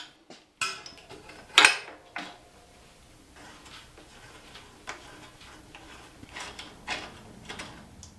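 A brake rotor adapter is fitted to a bicycle fork. Close, small metallic ticks, clicks and ratcheting sounds come in irregular bursts, with a few sharper knocks.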